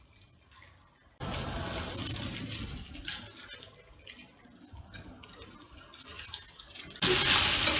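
Poha (flattened rice) stirred in a pan for upma, a steady scraping and rustling of grains against the metal pan that continues for several seconds, growing louder near the end.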